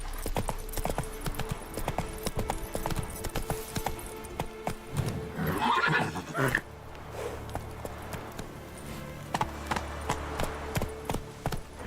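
Roach, a horse in the video game The Witcher 3: Wild Hunt, gallops with steady, rhythmic hoof clip-clops. A brief neigh or whinny rises around the middle, and game voices are heard over the hoofbeats.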